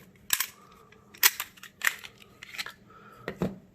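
A Glock 17 Gen 3 pistol being taken apart, giving scattered sharp metallic clicks and clacks at close range, a few distinct snaps spread across a quiet background.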